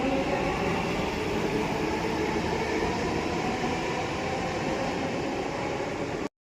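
Bengaluru metro train running, a steady loud rumble and hum with a continuous hiss, unbroken for about six seconds before cutting off sharply.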